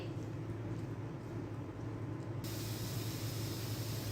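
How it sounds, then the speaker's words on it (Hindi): Onions frying in hot oil for chana pulao, a steady close sizzling hiss that grows brighter and louder partway through, with no talking. "अब यहाँ पर हम ऑयल गरम करेंगे, प्याज ऐड करेंगे, इनको यहाँ पर हम फ्राई करेंगे।"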